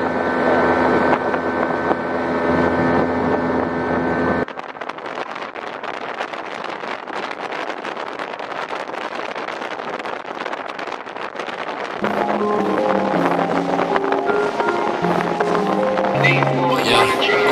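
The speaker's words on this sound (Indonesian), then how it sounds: "Dan inilah kita naik speed menuju ke Agats, ibu kota Kabupaten Asmat" A speedboat motor drones steadily on a river in Asmat, Papua, heading toward Agats, with heavy wind rush over the microphone; music plays over the start and end of the ride.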